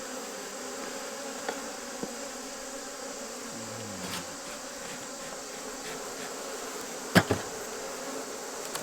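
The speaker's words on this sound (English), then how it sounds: "it's just lots of bees working honey" Dense, steady drone of many honey bees working honey at the edge of a brood chamber in an open hive, a close, continuous buzz with a few brief clicks and knocks from handling the frames.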